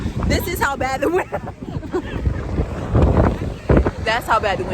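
Strong gusting wind buffets the microphone on a cold Miami beach, rumbling and roaring in uneven bursts while people talk over it.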